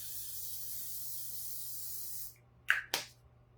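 Two short, sharp hisses of hairspray from an aerosol can misted onto a face as a finishing spray, close and loud, following a softer continuous spray that cuts off into silence.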